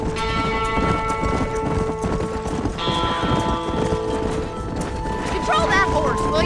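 Rapid horse hoofbeats clip-clop steadily under a sustained musical score, with a brief snatch of voices partway through, from the video game Red Dead Redemption.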